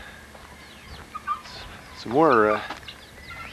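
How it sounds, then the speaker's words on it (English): Guinea fowl on a farm give a harsh, rising-and-falling raspy call, preceded by a few shorter squawks, loud and close, with a person briefly speaking over the birds. "Here we have more guineas."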